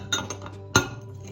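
Gambian drop doughnut batter stirred with coconut and golden raisins in a bowl, giving a few light clinks of a utensil against the dish and one sharper knock near the end, close and brief.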